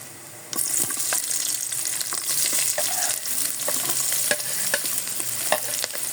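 Onions for tofu sisig hitting a hot pan after the garlic, a sudden steady sizzle that starts half a second in and holds loud, with occasional spatula scrapes and pops.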